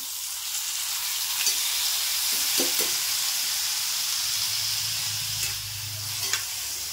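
Soaked rice grains being gently sautéed in a pan for sweet coconut rice, giving a steady close sizzle with soft stirring scrapes and a low rumble near the end, no talking.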